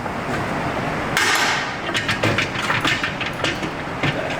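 A hammer punching a hard bolt backwards out of the lower control arm of a wrecked Bentley during a suspension repair, heard as a run of close, sharp metallic blows over steady shop background noise.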